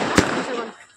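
A Diwali firecracker bursts overhead with a single sharp pop, followed by a short fading rumble and crackle in the open air.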